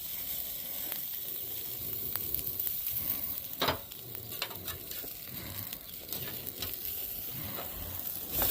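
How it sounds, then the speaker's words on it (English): Ribeye steak sizzling on a grill under a grill press, a steady close crackling hiss with a brief louder burst partway through and no talking. "That thing's sizzling, y'all."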